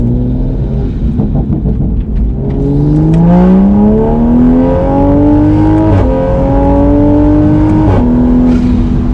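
A tuned Toyota A90 Supra accelerates in third gear on its most aggressive map, with a loud, close engine note rising steadily and brief breaks near the end as the pull continues. There is no talking.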